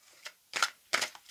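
Tarot cards being cut and shuffled, with several quick riffling bursts close up in a quiet room.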